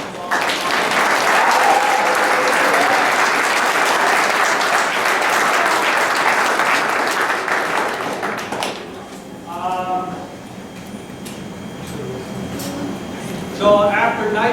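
Sustained audience applause fills a room at a high school cross-country team awards event, steady and loud for about nine seconds before fading into quieter murmuring and a few scattered claps.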